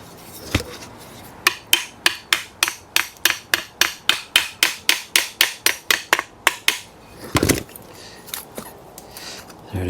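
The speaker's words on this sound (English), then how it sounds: "Hammer." Steady hammer blows on a seized metal air cleaner clamp of a 1941 Chrysler coupe, about twenty sharp evenly spaced strikes close by, then a few heavier scattered hits.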